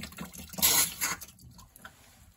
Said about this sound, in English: We're going to drain the water or the pressure from that line